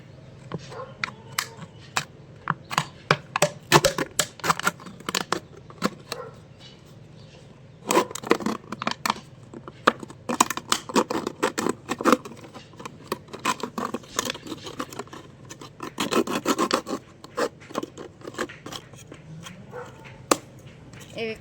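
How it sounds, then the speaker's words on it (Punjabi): A plastic bottle being cut with a blade gives off close, fairly loud crackling and crinkling snaps that come in irregular bursts throughout. "ਇਹ ਚਾਹੇ ਤੁਸੀਂ ਚਾਕੂ ਗਰਮ ਕਰਕੇ ਕੱਟ ਲੈਣਾ ਤੇ ਚਾਹੇ ਕਿਸੇ ਬਲੇਡ ਵਗੈਰਾ ਨਾਲ ਇੰਨਾ ਇੰਨਾ ਹਿੱਸਾ ਆਪਾਂ ਕੱਟ ਕੇ ਦਿਖਾਉਨੇ ਆ"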